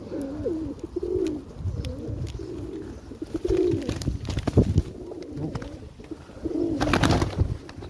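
Pigeons gather at feeding time, a flock cooing in repeated soft, throaty rolls close by, with scattered pecking, shuffling and a brief flutter in between.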